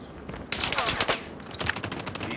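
Rapid automatic gunfire in the video game Call of Duty, a quick burst of shots after a short pause, fairly close and moderately loud.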